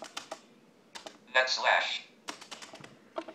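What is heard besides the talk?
typing on a BrailleNote Apex keyboard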